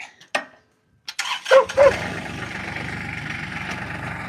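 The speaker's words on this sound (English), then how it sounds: "So, I want to see how good I am with the tractor." A tractor engine cranks and fires up near a dirt yard where a retaining wall is being prepped, a few sharp clanks first, then a loud catch settling into a steady rumbling idle close by.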